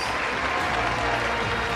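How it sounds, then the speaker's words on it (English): Applause from an audience at a live campus awards ceremony, a steady dense wash of clapping at an even level for a couple of seconds with no clear voices. "give a big round of applause for our hosts, TJ Collins and Dominique Lopez."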